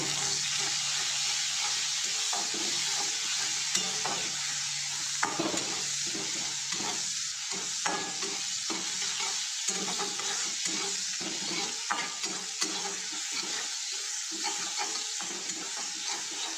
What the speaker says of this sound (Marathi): आता आपलं अद्रक लसूण कांदा जळायला लागलाय.